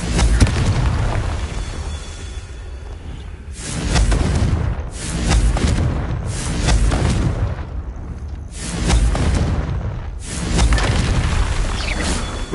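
Repeated Confringo blasting spells explode in the Hogwarts Legacy video game, a series of loud booming blasts with whooshing tails arriving every second or two and filling the sound alone.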